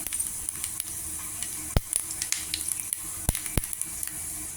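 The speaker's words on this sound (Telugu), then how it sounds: "కొద్దిగా ఆవాలు కొద్దిగా ఇంగువ గుమగుమలాడుతూ ఉంటుంది ఎగ్గు పోపు వేస్తేను" Mustard seeds and asafoetida tempering in hot oil for a coriander chutney, crackling and popping in sharp isolated bursts over a soft continuous sizzle, no voices.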